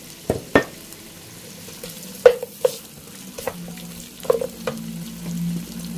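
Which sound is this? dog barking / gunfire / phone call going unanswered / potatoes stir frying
potatoes stir frying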